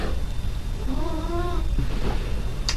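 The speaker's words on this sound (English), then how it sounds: "It's my cat contributing." A pet cat meows once, a brief harmonic cry in the middle, fairly faint over a steady background hiss.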